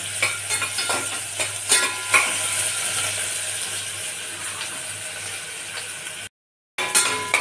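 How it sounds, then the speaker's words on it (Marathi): Chopped onion fries in a pan for Maharashtrian masale bhat, a continuous close sizzle with clinks and scrapes of stirring, broken by a brief silent gap before the sizzling resumes. "आता आपण याच्यामध्ये टाकणार आहोत कांदा। कांदा चांगला लालसर होऊन जाऊया।"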